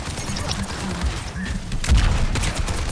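Turret fire in a video game comes as a dense, rumbling stream of shots with a heavier thump partway through. It is loud and close and blends into a busy mix of game noise.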